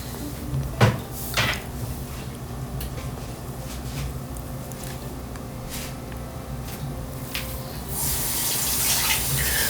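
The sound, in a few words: front-loading LG washer dispenser drawer pushed back in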